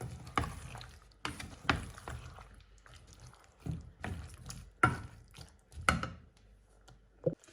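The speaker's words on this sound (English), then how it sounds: "So I'm going to add some water, just a little bit of water" Water is poured into a pot of vegetables, splashing and trickling in short bursts with pauses between, close by and fairly quiet, no voices.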